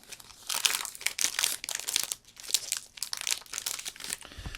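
Trading cards from a Time Spiral Remastered battle pack being shuffled by hand, giving a close, loose run of crinkly riffling and sliding bursts with short pauses between handfuls.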